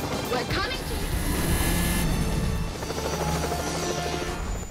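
A helicopter makes its escape while a Lamborghini Murcielago gives chase, a loud, dense roar of engine and rotor noise with crashing layered over it and speech mixed in.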